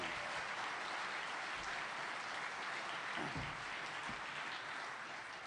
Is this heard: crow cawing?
no